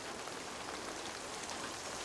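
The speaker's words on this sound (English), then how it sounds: "it's pouring rain" Heavy rain pours down at night in a dense, steady hiss that fills the whole short stretch evenly, with no voices.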